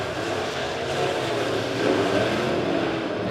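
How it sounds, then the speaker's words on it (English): B-modified race cars roaring around Springfield Raceway, a continuous loud engine drone that swells slightly midway, with no voices over it. "And Comer now working hard on the bottom, trying to get the second spot from Scroggins"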